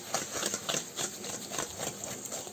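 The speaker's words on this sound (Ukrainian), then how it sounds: "Тепер збиваємо яйця з цукром." An electric mixer beats eggs with sugar for brownie cookie batter, giving a steady, rhythmic whirring and rattling that pulses evenly throughout at moderate loudness with no talk.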